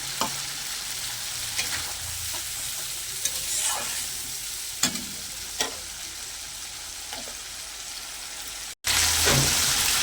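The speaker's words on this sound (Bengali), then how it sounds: "মশলা দিয়ে জলটাও দিয়ে দেবো, দিয়ে ভালো করে মশলাটা কষে নেব।" Spiced masala with water frying and being stirred in a pan for a Bengali kal bose fish oil-chilli curry, a steady close sizzle with periodic scrapes of the spoon, cutting out briefly near the end before resuming.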